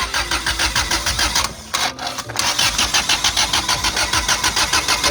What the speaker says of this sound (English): So now we're going to crank it.